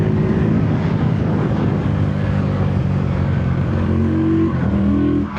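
The engine of a 2025 CFMOTO 450 CL-C motorcycle with automatic transmission accelerates out of a corner on a test ride, a loud, steady droning roar with wind noise and a shift in pitch near the end.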